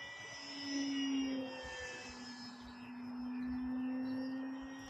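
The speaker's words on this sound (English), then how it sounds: "it's also a great inverted flying RCR plane" A small E-Flite Commander mPd electric RC plane flies inverted overhead, its motor holding a steady buzzing drone that swells and fades twice as it passes, fairly faint and distant, with no voices.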